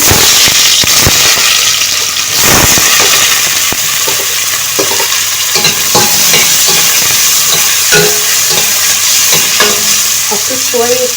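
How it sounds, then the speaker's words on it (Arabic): Small chopped onions frying in oil or ghee in a hot pot, a loud continuous sizzle with clattering stirs and scrapes of a spoon against the pot, close and with no talking. "حطيت شوية زيت او معلقة سمنة واقلب دول كلهم مع بعض البصل"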